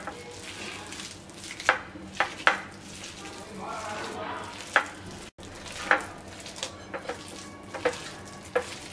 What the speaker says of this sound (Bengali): কদবেলগুলোকে ভিতর থেকে বের করে এবার আমরা হাত দিয়ে একটু চটকিয়ে নিচ্ছি